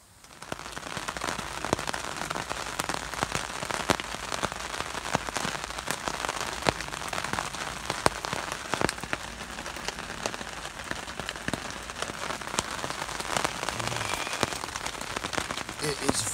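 Steady rain patters and crackles on a tent and camping gear during a stormy solo camp, dense and close throughout with no talking.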